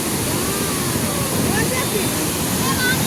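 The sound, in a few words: rushing water at Nizam Sagar dam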